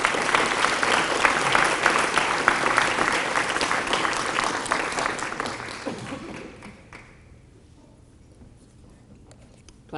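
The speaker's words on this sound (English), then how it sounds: "Thank you for applauding me before I say a word" A dinner audience at a school honors event applauds a guest speaker being welcomed, sustained crowd clapping for about six seconds that then fades into the quiet of the room.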